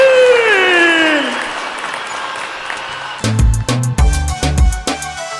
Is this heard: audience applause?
yes